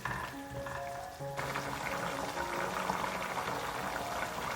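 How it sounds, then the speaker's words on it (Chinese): Beef brisket stew with added coconut milk boils over high heat, a dense, steady bubbling and gurgling that stays close and continuous, with a faint tonal hum early on and no one talking. "大火给它煮开哦"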